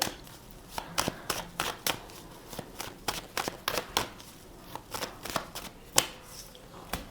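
Tarot cards being shuffled by hand before five are drawn, a run of quick papery riffles and taps in an irregular rhythm, close and fairly loud with no talking.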